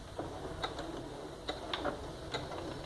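A domestic sewing machine stitching fabric for a simple zip pouch, a quiet mechanical run of soft ticking, clicking needle strokes at an uneven rhythm, close by with no voice.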